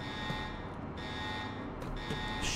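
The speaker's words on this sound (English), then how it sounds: "Shut that damn alarm off." A steady electronic submarine alarm from a naval combat video game drones at a constant pitch throughout, fairly loud and unbroken, with faint background game noise beneath it.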